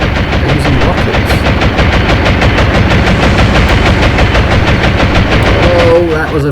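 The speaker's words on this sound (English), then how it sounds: "They're using rockets." Rockets launched at a ship in the naval video game Atlantic Fleet rattle off in a rapid, loud, continuous barrage of blasts, close and dense throughout, with a rising whistle near the end.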